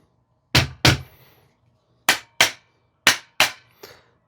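Sharp tapping on a firearm during a safety function check, sounding as three pairs of crisp, close knocks with short pauses between the pairs, followed by a fainter final tap.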